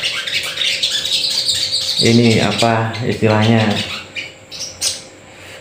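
Sogon songbird bred from young stock giving loud, repeated squawking chirps up close, with someone talking over and around the calls.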